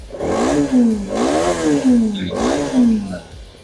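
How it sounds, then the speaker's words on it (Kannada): A TVS Apache RTX motorcycle exhaust revs up and drops three times in a row, a loud, close, throaty roar rising and falling. "ಎಕ್ಸಾಸ್ಟ್ ನೋಟ್ ಅದು"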